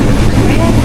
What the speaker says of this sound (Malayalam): അയ്യോ, ട്രെയിൻ വന്നങ്ങ് ദൂരെ കൊണ്ട് നിർത്തി.